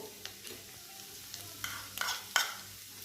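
Chana dal being stirred in a hot pan for a Bengali cholar dal, with soft scraping strokes and faint sizzling, a few sharper spoon clatters near the end, close by and fairly quiet.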